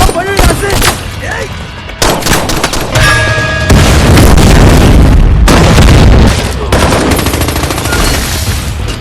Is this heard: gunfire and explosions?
yes